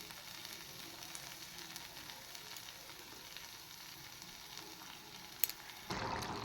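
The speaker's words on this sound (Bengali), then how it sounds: "এবার আমি ভেজে রাখা মাছগুলো দিয়ে দেব।" Fried fish goes into a mustard greens curry in a pan, setting off a soft continuous sizzle with faint stirring, a sharp clink near the end, and a louder burst of frying after it; no talking.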